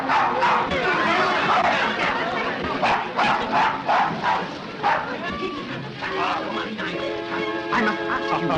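A dog in a 1936 film scene barks repeatedly in sharp, close yaps mixed with whimpers, while people talk nearby and music comes in toward the end.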